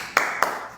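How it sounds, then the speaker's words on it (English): Two sharp hand claps ring out close and loud, evenly spaced about a quarter second apart, followed by a short fading room echo. "Why am I clapping, mate?"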